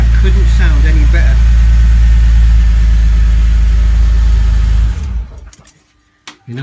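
A BMW E46 330 Ci Clubsport engine runs at a steady, loud idle in a garage, then shuts off near five seconds, leaving quiet clicks and faint room noise.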